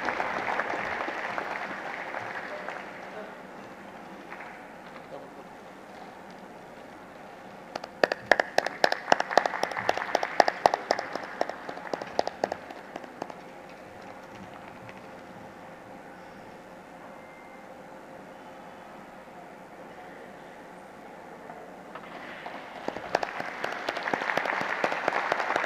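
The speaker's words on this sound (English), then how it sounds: "I request our audience for a round of applause" Audience applause at the closing ceremony of an international environment and sustainability summit in 2023, a soft ongoing patter that swells into a louder burst of close claps midway, fades, then rises again toward the end.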